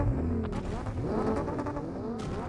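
A Lamborghini in a racing video game revs and accelerates, its engine pitch rising and falling in sweeps with gear-shift-like jumps, loud and close throughout.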